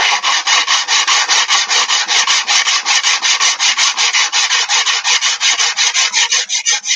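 Spine of a Friedr Herder straight razor rubbed flat on a 300-grit diamond stone: loud, close, rhythmic rasping strokes, about four per second and very even, with no voices.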